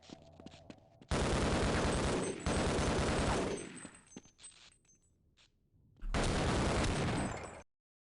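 Shotgun gunfire in the Half-Life: Blue Shift video game, two long, loud, dense bursts of blasts separated by a short lull, with game noises around them.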